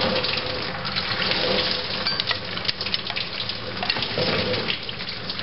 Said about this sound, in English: quite a bit of coolant falling into that bucket